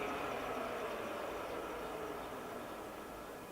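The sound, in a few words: TOS gap bed engine lathe running at 1,000 RPM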